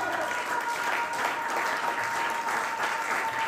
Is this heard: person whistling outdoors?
no